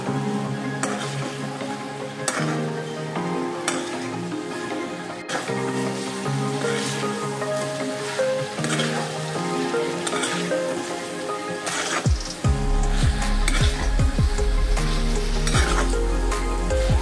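Potatoes tipped into a pan of fried prawns set off a loud, steady sizzle with stirring and scraping, the frying growing heavier and rumbling as the pieces hit the hot oil.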